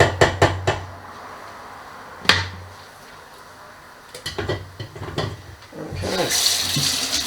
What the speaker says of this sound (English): Wash the hands once again.